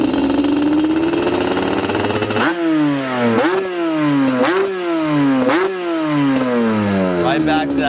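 A 1992 Yamaha Banshee two-stroke engine idles with a crisp, rough buzz, then gets blipped to full throttle over and over, each loud rising howl dropping back to idle.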